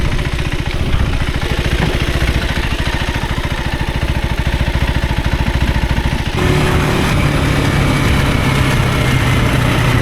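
KTM 390 Adventure R motorcycle engine throbbing steadily and loudly up close, likely while riding, with dense wind noise; the tone shifts partway through, and no talking.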